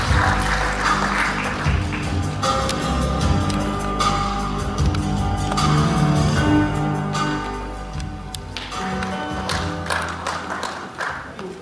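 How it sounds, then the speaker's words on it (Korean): Attendees at an investment forum in a hotel convention center applaud to welcome a speaker, with dense clapping over background music that thins out over the last few seconds. "여러분 박수로 맞이해 주십시오."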